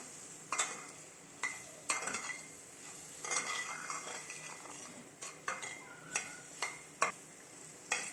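Semolina and gram flour roasting with butter in a pan, heard as a series of sharp utensil scrapes and clinks against the pan over a faint steady sizzle, spaced irregularly and fairly close.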